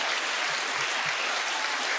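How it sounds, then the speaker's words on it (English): A dense round of applause fills the whole clip, a steady wash of many hands clapping, fairly close and even, with no talking. "This round of applause is for Simon Goodwin"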